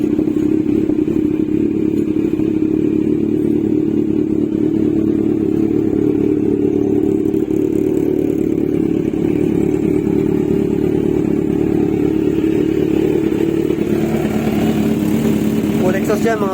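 Kawasaki Z1000 R fitted with an SC Project full titanium exhaust idles steadily and loud throughout, a continuous low rumble with mechanical clatter, close up, and no backfire.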